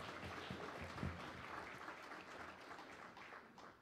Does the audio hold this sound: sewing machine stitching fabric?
no